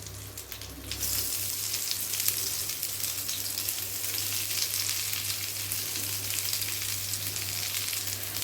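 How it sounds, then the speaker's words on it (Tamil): Vegetarian liver pieces shallow-fry in oil over a low flame, giving a steady, even sizzle that hisses continuously near the pan without pauses or talk. "சிம்லேயே வச்சு நல்லா பொறிச்சு எடுக்கணும்"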